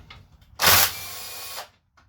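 A power tool backs out a 14 mm main case bolt on a 2002 Honda Accord transmission during teardown: one loud close whirring burst that drops to a steadier lower whine for about a second, then stops.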